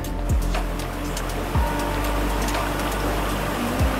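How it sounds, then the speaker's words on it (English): A Kenyan waterfall plunging over a 25-foot drop among large boulders makes a loud, continuous roar of rushing water, steady throughout with no voices. "the powerful sound of rushing water as it cascades down the 25-foot drop"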